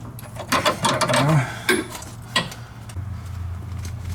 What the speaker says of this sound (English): So you wanna use your other flare wrench to hold it in place. Then with 2 wrenches, you can properly tighten down this line.